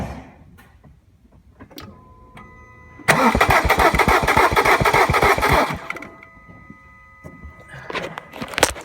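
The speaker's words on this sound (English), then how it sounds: "Now I'm going to crank the engine over and see if it rotates." A 1.3 CDTi diesel engine with a failed timing chain cranks over with a rapid rhythmic whirring for a few seconds, close by, then stops without catching, leaving quiet clicks.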